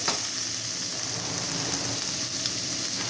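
Turmeric and garam masala powder sizzle steadily in a pan over a low gas flame, a continuous close hiss with faint stirring scrapes and no talking.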